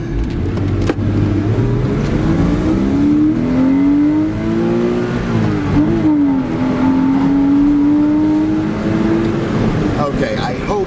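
Porsche 986 Boxster engine revving hard under acceleration, its pitch climbing, dipping at a gear change and climbing again, loud and close from the cabin.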